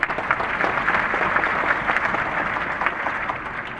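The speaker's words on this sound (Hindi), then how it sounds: "एक बार अपने लिए जोरदार ताली बजाएं।" A crowd claps loudly and steadily, dense applause that holds for several seconds before tapering slightly toward the end.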